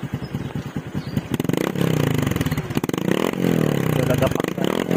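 Raider J11 motorcycle fitted with a Spyker power pipe exhaust, revving close up in sharp, throaty bursts that rise and fall repeatedly, with rapid popping pulses between revs and people talking over it.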